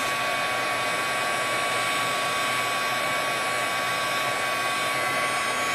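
Heat embossing tool blowing hot air onto a handmade card, a constant loud whooshing hum held evenly throughout with no pauses.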